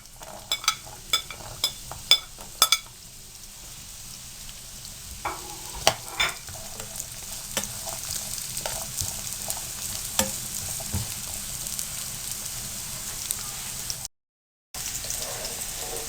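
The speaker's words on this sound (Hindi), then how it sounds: "आप इसमें गाजर को डालें और 2 मिनट के लिए गाजर को फ्राई कर लें" Steady frying sizzle from carrots in a pan with sharp clinks and stirring scrapes early on, no voices.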